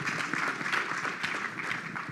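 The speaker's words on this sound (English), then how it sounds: "big applause for Shrikar" Applause from a keynote audience welcoming a travel platform co-founder, a steady wash of many hands clapping at moderate distance, fairly soft and even throughout.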